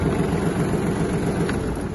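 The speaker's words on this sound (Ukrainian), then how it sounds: "Завершили рух, фіксуємо трактор на тормоз" A Kubota GT-21 Japanese mini tractor engine idles at rest with the brake set, a steady low rumble with a constant high whine, close and even throughout.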